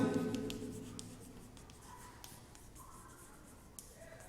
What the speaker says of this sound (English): here I am writing the shortcut formula